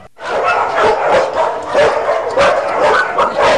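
Many dogs at an animal shelter barking and yipping at once in a continuous, overlapping chorus, loud and close, echoing as in an enclosed space.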